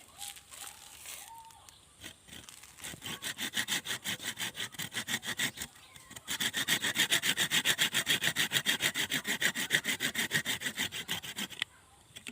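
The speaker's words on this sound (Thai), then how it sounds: "ใช้แบบนี้เลย เลื่อยตรงจุดที่เรา บอกไว้เมื่อกี้นะคะ การเลื่อยเลยค่ะ" A hand saw cuts through a thick cha-om branch in quick, regular back-and-forth strokes, a brief pause midway before a faster, louder run of rasping strokes, heard close with no talk.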